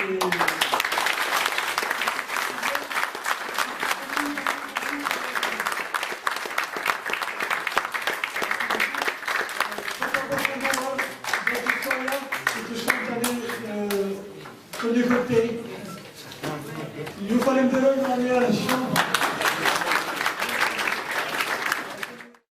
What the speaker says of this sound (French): je voulais que vous applaudissiez très fort